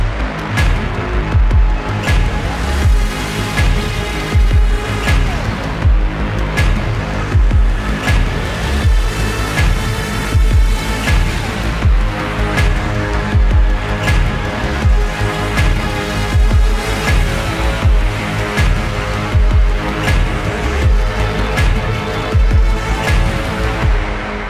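An electronic track from a video game soundtrack plays loud and dense throughout, with a steady driving beat, heavy bass and layered synth tones, no talk.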